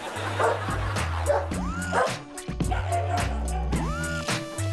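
A small dog yaps and barks repeatedly in quick bursts, with whimpering tones between barks, over steady background noise.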